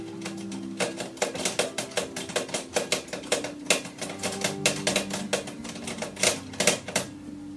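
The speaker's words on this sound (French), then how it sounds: "quand je vous disais qu'elle est vraiment fonctionnelle, c'est que on appuie sur les touches" Keys clack in rapid, uneven bursts on an old mechanical typewriter, a dense run of close, crisp strikes with a few slightly louder hits and a brief pause midway, no voices.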